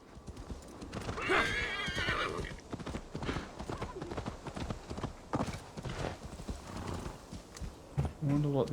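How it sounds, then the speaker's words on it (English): In Assassin's Creed Valhalla, a horse neighs loudly near the start amid steady hoof clops, and another whinny breaks out at the end. "Well, at least the horse stayed here."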